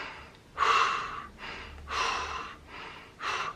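Normal exhalations in a Systema breathing exercise: three audible breaths, a gentle push of air repeated roughly every 1.3 seconds, close to the microphone with no talking.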